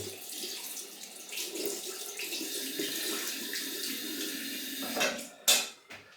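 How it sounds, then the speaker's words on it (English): Tap water runs steadily into a sink while a razor is rinsed under it after a head shave, ending in a couple of sharp metallic knocks and clatters up close. "Rinse the razor out."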